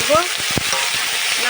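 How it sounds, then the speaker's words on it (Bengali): Ridge gourd and potato fry loudly in a pan, a close, bright sizzle broken by several quick scraping strokes of a spatula as the vegetables are stirred. "দিয়ে ঝিঙে আলু দিয়ে নাড়বো"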